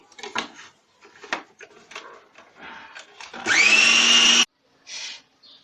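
Quiet, scattered voices, then a food chopper mincing meat for gola kabab whirs loudly for about a second, its motor pitch rising, before cutting off abruptly.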